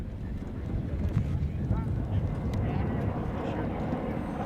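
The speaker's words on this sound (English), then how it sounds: "A little windy today." Steady, loud wind buffets the microphone across open desert sand dunes on a film location, a continuous low roar with gusty rumble throughout and no distinct speech.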